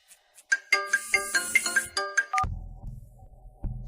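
A mobile phone ringtone for an incoming call plays clearly as a bright, rapid run of melodic chimes for about two seconds. It cuts off into a low thud and faint rumble, with no one talking.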